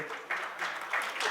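Audience applause welcoming a reader to the stage at a book launch for Madhu Rai's 'Roop Roop Ambar', moderate clapping from a small crowd that swells in a few waves.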